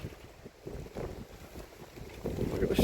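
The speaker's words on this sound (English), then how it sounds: "it's a little bit windy. It's windy." Wind gusting against the microphone outdoors under a stormy sky, low rumbling buffets that swell and fade irregularly, growing stronger toward the end.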